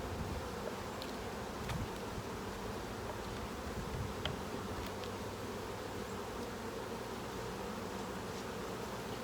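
Honeybees shaken from a hive into a bottomless Rubbermaid bin for a varroa count give a steady, dense buzzing swarm drone, continuous and moderately faint, with a few brief clicks and knocks over it.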